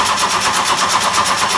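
A race car engine cranks over on a Total Power starter motor and battery cable system with a 2-gauge ground wire, giving a loud, rapid, evenly pulsing churn that holds steady throughout with no talking.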